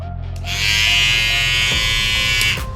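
A BRDCLIP X electric hair trimmer buzzes steadily and loudly up close, a sustained motor drone with a bright high whine that holds for about two seconds before cutting off.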